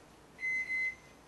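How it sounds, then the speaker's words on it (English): A microwave oven melting butter gives a single clean electronic beep, about half a second long with a slight dip midway, against quiet kitchen background. "throw some butter in the microwave"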